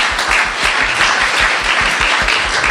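Audience applause at a keynote conference session, a loud, dense wash of clapping filling the room without pause.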